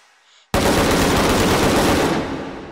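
Loud, sustained burst of rapid automatic gunfire from a firearm in the VR game H3VR, starting abruptly after a short quiet lead-in and continuing as a dense, near roar to the end.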